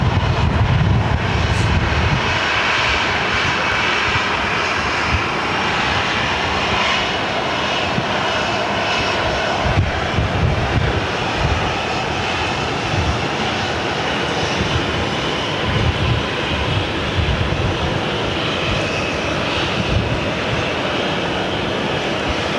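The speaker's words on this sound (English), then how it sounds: "I've got this flight coming into gate D1, which is right below us here." Loud, steady roar of an American Airlines airliner's jet engines as it taxis toward gate D1 at Phoenix Sky Harbor airport, a broad continuous rumble heard alone throughout with small swells.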